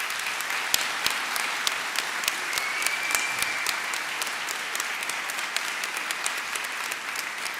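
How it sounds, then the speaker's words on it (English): A graduation ceremony audience at St Bride's Kirk applauds in a sustained wash of clapping, with a few sharper, closer claps standing out and no talking over it. "So you give them all a big round of applause"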